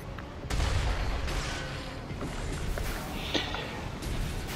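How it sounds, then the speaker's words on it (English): Bazooka fire in the mecha game Armored Core 6, a heavy boom at the half-second mark followed by rumbling blasts and mechanical clatter, loud and dense throughout with no talk. "The bazookas do the most damage here."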